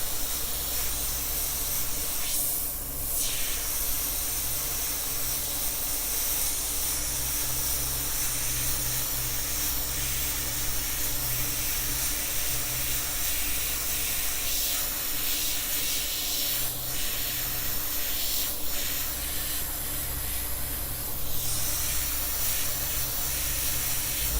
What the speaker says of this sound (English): There's my air compressor kicking on in the background.